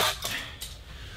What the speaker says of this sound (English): A little bit of cutlery, a little flipper for some pancakes.